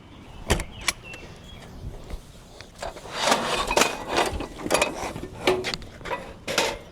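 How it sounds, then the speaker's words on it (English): A teardrop camper door is shut during a camp setup, giving several sharp clunks and rattles spread across the stretch, the loudest knocks near the start and a cluster of bangs and latch clicks later, all fairly close. "I'm going to close this door in between things because of the flies."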